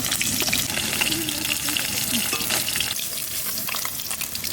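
Potatoes frying in oil in a home Bengali kitchen, a steady dense hiss and crackle of sizzling throughout, close and fairly loud, with faint speech under it.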